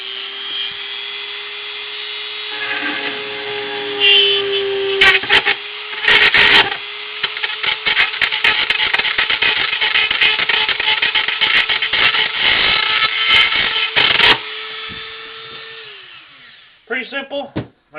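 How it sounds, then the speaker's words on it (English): A power drill whines steadily at high speed while boring a hole in a PS1 console case, with crackling chatter as the bit cuts the plastic, then it winds down and stops, followed by a few clicks. "let me just drill this hole real quick"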